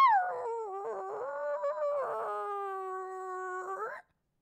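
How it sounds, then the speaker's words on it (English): A dog whimpers and howls in long, drawn-out whiny tones that rise and slide, close and clear with no other sound, ending abruptly after about four seconds. "just like whimpery, howly, whiny sounds"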